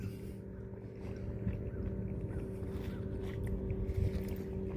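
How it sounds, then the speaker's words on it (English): A steady low engine hum drones over lapping, rushing water, like a boat running at a distance on a river near McGee Bridge, West Point, Georgia, with some wind noise and no talking. "I see a boat"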